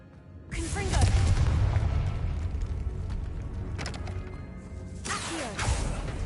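A Confringo spell explosion in Hogwarts Legacy on PS5 sets off a loud, sustained booming blast with crashing debris, followed by a second burst, all over a low rumbling game soundtrack.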